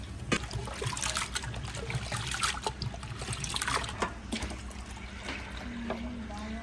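Mixed yellow and red lentils are rinsed in water, giving a steady close trickling and sloshing of liquid throughout, with soft clinks against the vessel.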